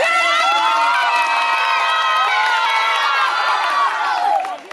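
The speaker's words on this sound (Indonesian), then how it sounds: "Tepuk tangan dulu buat" At a school outing, an audience cheers, whoops and shouts in a loud, excited crowd roar, children's high voices layered over scattered clapping, dropping off abruptly at the very end.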